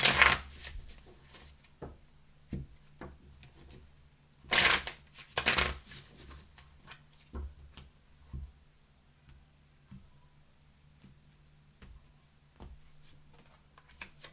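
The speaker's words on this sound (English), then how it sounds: "3 shuffles" Tarot cards shuffled by hand in a quiet room, soft riffling bursts repeating several times with brief pauses between, close and fairly gentle.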